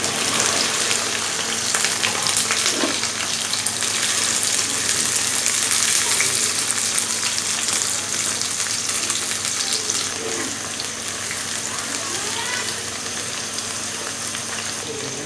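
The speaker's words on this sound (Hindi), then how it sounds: "इसी तरह बाकी भिंडियों को भी फ्राई कर लेंगे।" Okra pieces fry in hot oil for a bhindi chicken masala, a dense continuous crackling sizzle that stays loud and close throughout, with occasional faint stirring knocks and no voices.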